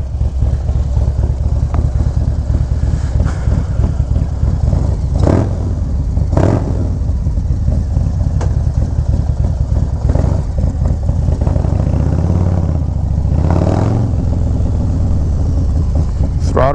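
A Harley-Davidson Low Rider ST motorcycle with the 131 engine rumbles and revs while riding, a loud, continuous low engine drone with occasional throttle swells, heard up close with no talk.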